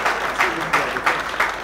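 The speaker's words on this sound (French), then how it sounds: "Je lui demande de s'élever pour que vous puissiez l'applaudir" An audience at a political party gathering breaks into applause, a brief burst of clapping that surges in several waves over a few seconds, fairly loud and close.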